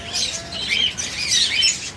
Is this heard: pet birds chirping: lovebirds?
yes